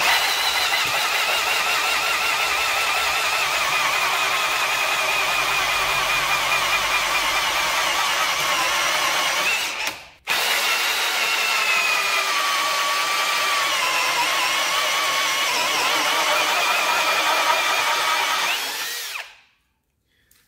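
Ozito 18V 60Nm brushless hammer drill in first gear driving a 102 mm hole saw, a loud continuous whine and grinding that holds steady for about ten seconds, drops out briefly, then resumes before stopping abruptly.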